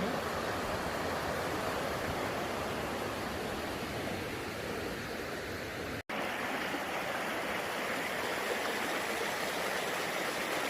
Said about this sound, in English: The river is just down there